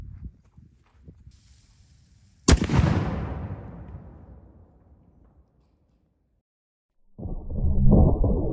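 A gun fires a single Mega Enigma lead ball round outdoors, one sharp loud blast that rolls off into a long fading echo, framed by faint handling noises and a later burst of rustling.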